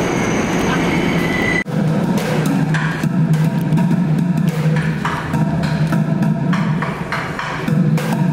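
A New York subway train rumbles and clatters steadily, with metallic rattling, rhythmic wheel clicks and occasional squeals through the whole stretch.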